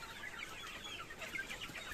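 Sonali chickens cluck and chirp together on a farm, a faint, busy flock chatter with no voices.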